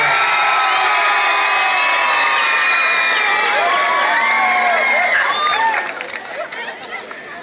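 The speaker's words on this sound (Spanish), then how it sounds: "¡Aplauso!" Crowd at a huaylas dance contest cheering and whooping for a dancing couple, a loud, steady wash of voices that thins out near the end.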